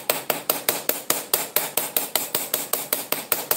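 A hammer strikes metal again and again while someone repairs scissors, likely peening the pivot rivet. The blows are sharp, bright and close, landing in a fast, steady rhythm of roughly five per second with no talking.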